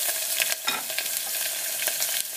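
Tempering spices and dried red chilies sizzle in hot oil for a Telugu potato curry, with steady crackling and a few scraping stirs of a spoon, close and alone.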